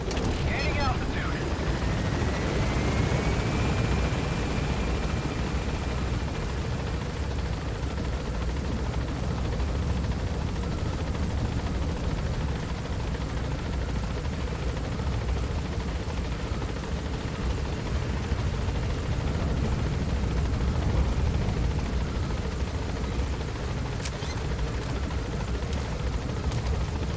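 A helicopter in the video game Metal Gear Solid V: The Phantom Pain climbs with a loud, constant rotor and engine roar that fills the scene unbroken throughout, with a brief sharp click near the end.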